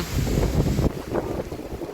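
Strong outdoor wind buffets the microphone in heavy, rumbling gusts that roar loudly, then ease abruptly into a lighter, fluttering blow.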